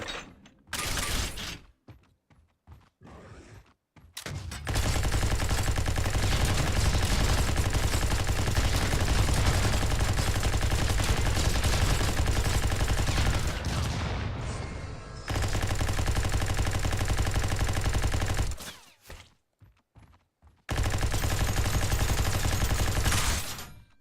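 Trifire pistol firing in a video game: long sustained bursts of rapid, continuous gunfire, loud and close, split by short pauses and clicking mechanical sounds.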